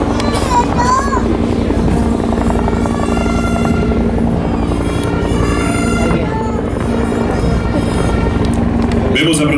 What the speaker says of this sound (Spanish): Vemos aproximarse un helicóptero Lama de la sección de aviación de ejército de la Brigada de Montaña 8